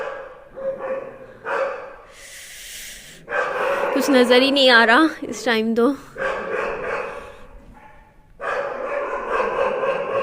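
A dog barks outdoors on a cold night, a few irregular barks and yips at moderate distance, with someone speaking in Hindi over and between them.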